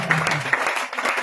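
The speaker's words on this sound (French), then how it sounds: "Acclame fortement le Seigneur." A church congregation at a testimony festival applauds, a brief burst of dense clapping and cheering voices close by, mixed with crowd noise.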